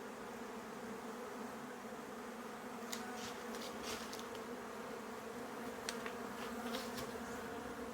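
Bees hum as a steady, dense buzz inside a shed where a swarm has moved into a trap, with a few brief faint clicks over the constant drone.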